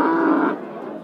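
A black cow at a livestock market gives one loud, close, drawn-out moo that fades into a quieter tail.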